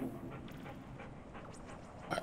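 A dog in a video game pants in quick, rhythmic, breathy puffs with a faint whimpering edge. The sound is close and fairly quiet, and no voices can be heard.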